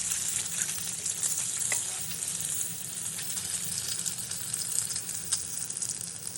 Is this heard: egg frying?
yes